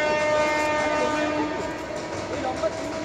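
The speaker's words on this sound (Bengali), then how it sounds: "ট্রেন আসতেছে না কি আসছে" A train approaches with its horn sounding in a loud, sustained tonal blast over the rumble of the railcars, fairly close and fading slightly toward the end.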